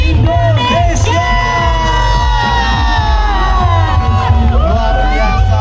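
A night festival parade in Surabaya with a loud, steady crowd cheering and whooping near and far, layered with voices, music-like tones and a continuous wash of festival noise throughout.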